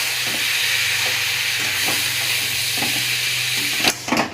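Mushrooms frying with chopped tomatoes in a hot kadai wok give a steady, close sizzle, broken by repeated scraping stirs of a spatula and a louder clatter near the end.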